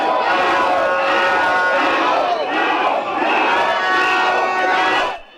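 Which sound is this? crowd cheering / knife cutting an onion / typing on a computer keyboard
crowd cheering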